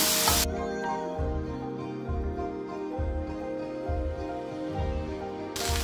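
Vegetables and spices sauté in a kadhai, a steady close sizzle with soft stirring scrapes and a low rhythmic thumping underneath, no one speaking.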